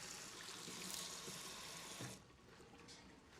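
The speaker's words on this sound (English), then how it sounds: "you don't need that much water to wash your hands" Tap water runs steadily in a steady broadband rush while hands are washed, fairly close and continuous, then cuts off abruptly about two seconds in, leaving a quiet room.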